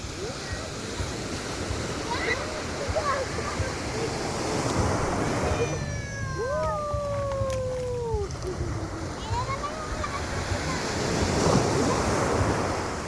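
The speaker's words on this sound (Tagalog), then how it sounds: "Lakas talaga ng alon" Strong ocean waves break on a beach at night, a continuous roaring surf that swells and crashes, with several voices talking and calling out over the water.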